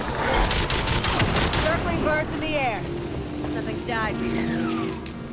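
Rapid bursts of gunfire in the video game Evolve crackle and rattle over a busy, noisy background, with voices chattering alongside.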